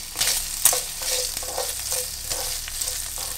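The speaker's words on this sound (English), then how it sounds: "once you get a good sizzle going, right, you need to stir it." Beef fat sizzles and crackles in a hot pan while it renders into tallow, with the scrape of stirring now and then over the steady, close frying hiss.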